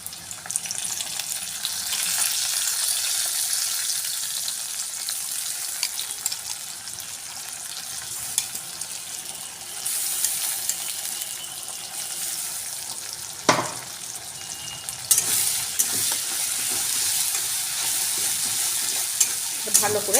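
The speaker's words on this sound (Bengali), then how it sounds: "পেঁয়াজটা আমার ভাজা হয়ে গেছে, আমি যে বেটে রেখেছিলাম এই পেস্টটা দিয়ে দেব।" A ground spice paste frying with fried onion in a pan for a jackfruit and prawn curry, with a loud continuous sizzle, repeated stirring scrapes, and a few sharp clinks of the spoon against the pan.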